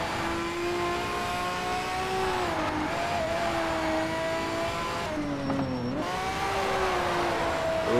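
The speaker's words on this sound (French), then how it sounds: "Oh, magnifique dérapage," A racing car in the video game Need for Speed Shift drifts through a corner. Its engine drone swings up and down in pitch as it slides, a steady, fairly loud whine with no voices.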